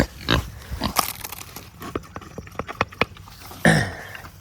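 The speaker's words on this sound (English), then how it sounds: "Your pigs have been jailbreaking on me, Rosie." Pigs on a home farm grunt and snort in short, loud bursts close by, with scattered quick clicks and a sharper squeal-like burst near the end.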